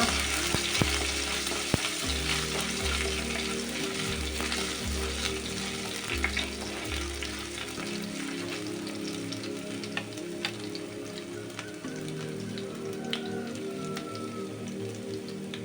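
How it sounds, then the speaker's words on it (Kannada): Garlic, ginger and curry leaves sizzle and crackle steadily in hot oil in a pan, with occasional sharp pops and light stirring. "1 ಚಿಕ್ಕ ತುಂಡು ಶುಂಠಿ, ಸ್ವಲ್ಪ ಕರಿಬೇವಿನ ಸೊಪ್ಪು ಹಾಕಿ ಚೆನ್ನಾಗಿ ಬಾಡಿಸ್ಕೊಳ್ಳೋಣ"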